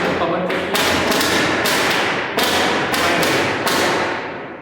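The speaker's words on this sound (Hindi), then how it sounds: "तो थोड़ा पटाखों का शोर है, थोड़ा इसका इग्नोर कीजिए" Diwali firecrackers go off in a rapid string of loud, sharp bangs and cracks, one after another, over a dense, roaring noise.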